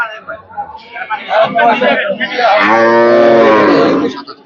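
A dairy cow of Australian breed, a cow in its second calving on a farm in Hazratpur, Keraniganj, gives one long, loud, close moo that swells and holds for over a second, after a few shorter lowing sounds and under faint background voices.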